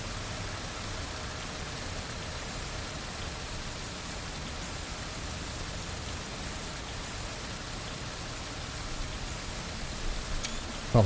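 Steady, dense rainfall in the video game Tourist Bus Simulator hisses evenly throughout, a constant wash of drops on surfaces with no voices, ending in a brief louder knock.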